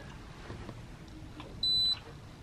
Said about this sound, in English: It beeped.